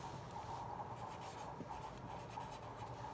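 A marker or chalk scratches across a board while an accounts problem is worked out, a faint, continuous rubbing and scraping with small strokes and pauses, with no voice.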